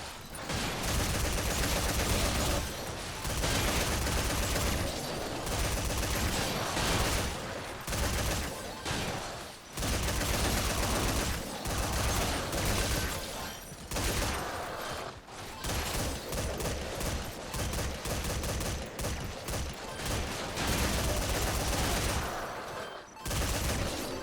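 Mounted gun in Metal Gear Survive fires long, loud automatic bursts that go on and on, broken by short pauses, with dense chattering gunfire filling most of the stretch.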